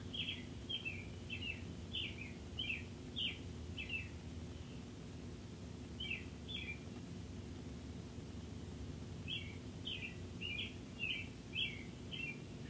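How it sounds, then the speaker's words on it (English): A bird sings outside a window in short repeated bright phrases, grouped in bursts with a pause between, fairly faint over a steady indoor hum. "That bird is really just singing its little heart out."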